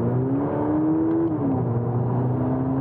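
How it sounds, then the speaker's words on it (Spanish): A 2022 Volkswagen Polo GTI engine revs with a steady, close drone that climbs in pitch, then drops sharply partway through as the dual-clutch gearbox shifts, before settling into a lower continuous hum. No one speaks. "Cuando bajamos de marcha, la doble embrague juega allí un pequeño tiempo en segundos para optimizar ese cambio de marcha y esa aceleración"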